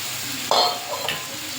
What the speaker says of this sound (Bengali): দিয়ে মশলার সঙ্গে আলুটা ভালো করে ভেজে নেব।